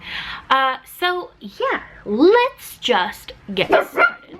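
Pet dogs in the room behind a speaker bark and yip in short, bright bursts, mixed in with close, steady talking.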